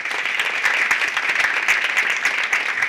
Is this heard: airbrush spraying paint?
no